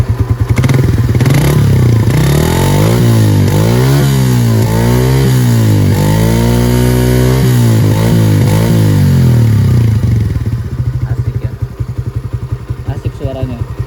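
Suzuki Raider 125 motorcycle engine revving up and down loudly and close by, the pitch rising and falling through several throttle blips before settling back to a steady idle.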